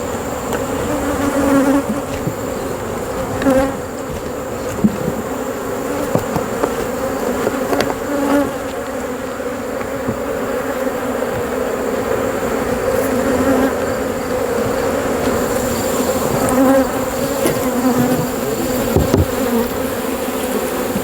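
Honeybees swarm around a messy frameless hive comb full of larvae, eggs and brood, a loud, dense, continuous buzz close to the microphone with individual bees droning past, no speech.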